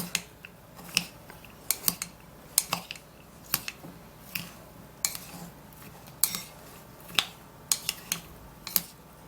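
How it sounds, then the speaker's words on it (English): Utensils toss and mix a homemade salad in a bowl, making repeated sharp clicks and scrapes in an irregular rhythm, close and fairly quiet, with no talking. "Now after putting that, then you can mix this all up."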